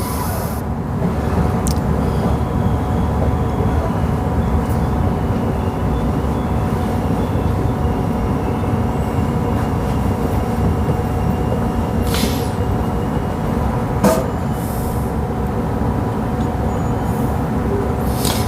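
Steady low rumble from inside a 3-car train running on the Thornlie-Cockburn line, a continuous drone of wheels and motors with a few sharp clicks and brief higher squeaks over it, no voices.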